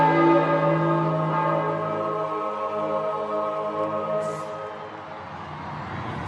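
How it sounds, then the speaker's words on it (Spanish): Church bells ring out with a long, sustained resonant tone that slowly decays, loud and steady, following the announcement of a newly elected Pope in 2013, with no voices heard. "pronto comienzan a sonar las campanas y ya no hay dudas"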